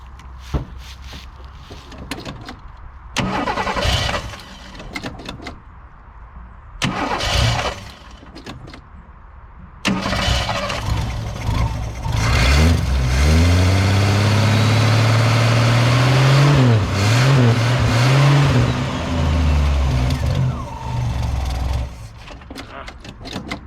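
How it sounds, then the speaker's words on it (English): An old Ford car, either a 1962 Falcon or 1967 Galaxie, cranks in a couple of short bursts, then a longer crank catches into a rough, rising engine run that surges and settles, close and loud. "Hopefully she'll crank and run this time."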